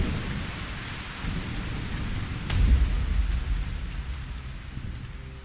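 Steady rain falls on a railway platform, a dense wash of drops with a low rumble of thunder swelling near the middle before easing back, no voices over it.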